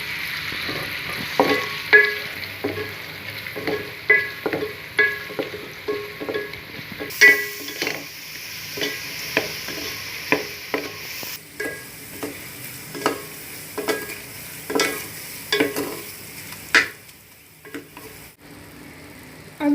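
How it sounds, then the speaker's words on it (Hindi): Onions fry in hot oil and are stirred until golden brown, a steady sizzle broken by repeated scraping taps of the spoon against the pan, close and continuous. "अब इसमें प्याज डाल दें। और प्याज को गोल्डन ब्राउन करें।"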